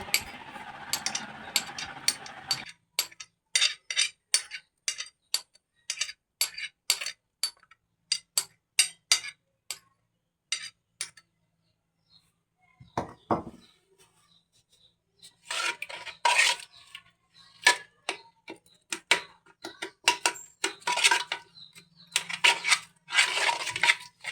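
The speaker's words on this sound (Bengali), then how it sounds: "আমি কাঠবাদামের পেস্ট আর হচ্ছে ধনিয়ার পেস্টটা দিয়ে ভালোভাবে তেলটা মিক্স করে নেব।" Almond paste, coriander paste and oil are stirred together in a bowl, giving quick bursts of scraping, clinking and tapping against the bowl, with several short pauses and no talking.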